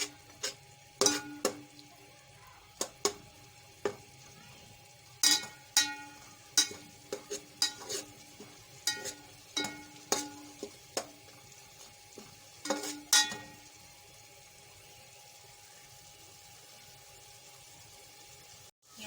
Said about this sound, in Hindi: तो ये 2 मिनट भूनना है हमें मसाला, फिर हम इसमें दाल डाल देंगे गलने के लिए।